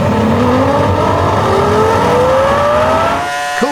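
A Formula 1 car's engine keeps running after it spins into a gravel trap, a loud sustained roar with the pitch slowly rising and wavering, alone with no voices, easing off near the end.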